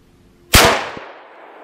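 A single rifle shot, .303 British or 7.62x54R, fired at body armor: one sharp, loud crack with a short burst of impact echoes, then a long fading tail, with no talking.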